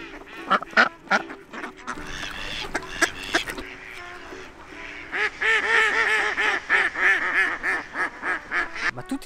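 A group of ducks being hand-fed at a spring-fed riverside park, loud close quacking in scattered bursts, then a dense continuous chorus of overlapping quacks.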